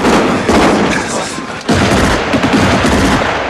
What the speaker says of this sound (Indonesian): Tiba-tiba, salah satu prajurit Jerman yang bernama Müller menembak ke arah persembunyian musuh.